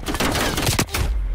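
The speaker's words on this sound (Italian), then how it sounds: "Butto una flashbang." A flashbang grenade thrown in Call of Duty: Cold War, a loud, dense burst of rapid cracks and bangs over about a second that quickly drops to a low rumble.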